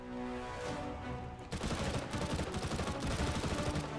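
An MP7 submachine gun firing in CS:GO, starting after a steady humming background and then a rapid sustained burst of crisp automatic shots for several seconds, fairly quiet overall.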